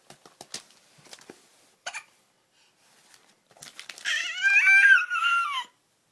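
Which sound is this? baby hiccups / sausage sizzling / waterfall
baby hiccups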